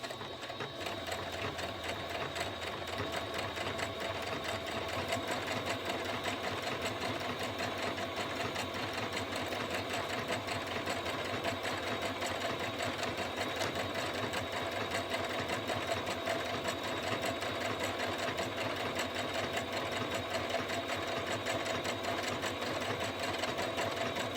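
A sewing machine stitches fringe on a mermaid tail with a steady, continuous mechanical whir and fine rapid rattle, running at an even pace throughout at a moderate, close distance with no speech.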